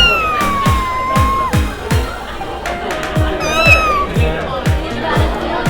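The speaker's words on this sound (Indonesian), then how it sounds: "Beneran ada kucingnya?" A cat meows repeatedly in short rhythmic cries while people talk over it, with a bright siren-like tone wavering above.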